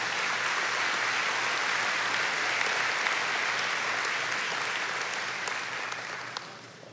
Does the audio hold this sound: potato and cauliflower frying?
no